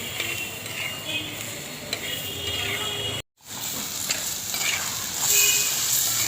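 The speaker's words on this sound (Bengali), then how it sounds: "ভালোভাবে নেড়ে নিব।" Chicken with tomatoes is stirred in a sizzling pan, steady scraping and frying hiss up close, with a brief drop-out midway and a louder stir toward the end.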